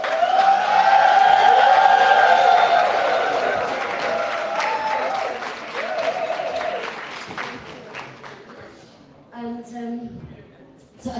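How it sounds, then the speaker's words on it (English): An audience at a book launch gives a loud, sustained burst of applause and cheering. It gradually thins out, then a voice speaks over the fading claps near the end. "can we give her a cheer and show her our love in this house tonight?"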